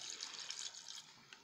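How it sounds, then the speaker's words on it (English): Water poured into a blender over sliced overripe plantain while preparing plantain moi moi, a soft, steady splashing hiss that runs briefly, close up, with no talking. "Then you add water to it, little water to it"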